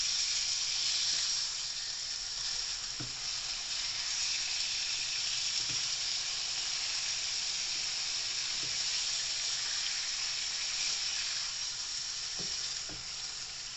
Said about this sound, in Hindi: तकरीबन चिकन हमारा भून ही चुका है।